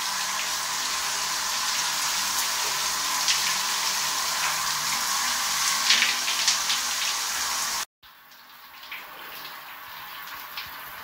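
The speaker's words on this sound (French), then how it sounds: "Là, je passe à la douche." Shower water running steadily in a bathroom during a hair-care routine for damaged hair, a loud continuous hiss and splatter that drops abruptly to a quieter, thinner spray near the end, with no talking.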